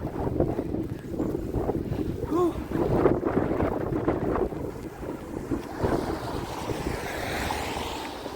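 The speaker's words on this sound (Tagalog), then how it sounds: "Napakalakas ng hangin." Strong spring wind buffets the microphone on a residential street in Canada, a continuous rough roar and rumble with gusts rising and falling, and a person speaks briefly under the wind.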